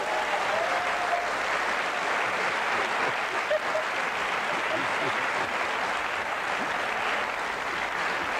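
Studio audience applause offering congratulations on a new fatherhood, steady dense clapping that holds evenly throughout without any voices rising above it.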